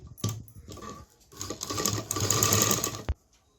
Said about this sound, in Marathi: पूर्ण नेकला मी दाबटीप मारून घेते